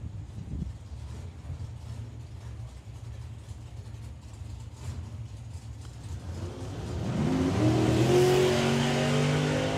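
At a drag strip a race car idles with a low engine rumble before launching and pulling a long wheelie, its engine rising to a loud, climbing roar for the final few seconds.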